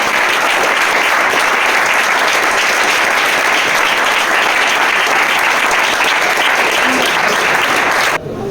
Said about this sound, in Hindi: मैं चाहूंगा एक बार तालियां अपने उस